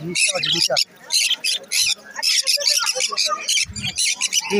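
Pineapple red factor parrots at the Dakshineswar pet market give harsh, rapid, overlapping squawks and chirps, loud and close, mixed with nearby human voices.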